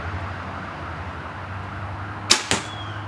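Single release of an arrow from an APA Mamba M6 compound bow shot without a stabilizer, a sharp close snap followed a moment later by a second short impact, with steady background hum and no talking.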